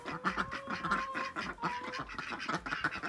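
A group of ducks that have just left their pond and run off quacks repeatedly in quick overlapping calls. The birds are close and clear, and the chorus carries on throughout with no speech.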